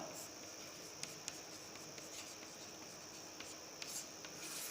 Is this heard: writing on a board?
yes